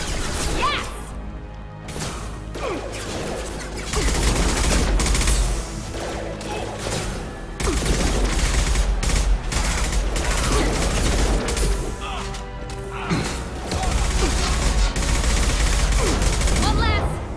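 Gunfire in the video game Mass Effect 2, with dense bursts of shots and impacts coming in waves over a rumbling backdrop, and game voices heard in between.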